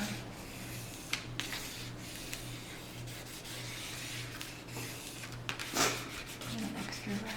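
Steady rubbing of a burnishing tool pressing material down on a legal pad folio, a continuous close scraping with a few small knocks and a louder swipe near the end.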